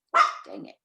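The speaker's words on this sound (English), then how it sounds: "Sorry, that's my dog." A single sharp dog bark at close range, followed by a shorter, lower growl-like tail, with a man muttering briefly over it in a quiet indoor setting during a citrus tree care class.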